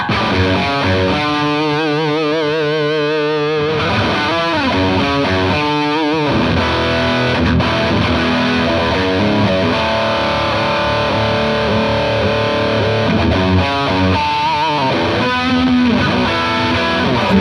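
Heavily distorted electric guitar through a BOSS HM-2 or MT-2 distortion pedal plays loud, crunchy high-gain chords and riffs with sustained notes, continuous for the whole stretch.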